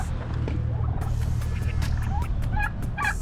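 A turkey on a farm gobbles in loud, rapid bursts, several calls rising toward the end over a steady low rumble of background noise.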